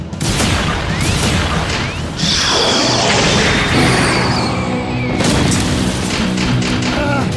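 A cartoon Bull Cannon attack blast from the Bakugan series, loud booming impacts with whooshes and crashing bursts in quick succession, then a second heavy explosion near the end.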